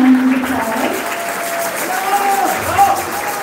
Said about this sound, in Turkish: yine bir kocaman alkış rica ediyorum